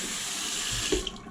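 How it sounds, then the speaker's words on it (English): A faucet left running, a steady close hiss of flowing water with a brief clink near the end. "faucet here I left on."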